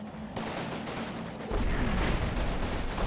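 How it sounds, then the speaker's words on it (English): Artillery fire in the WWII strategy game Combat Mission Final Blitzkrieg, shells landing on German-held buildings: a steady rumbling barrage of overlapping blasts that swells louder and denser partway through, with no talk. "now my artillery is starting to come down on the few buildings that the Germans have occupied"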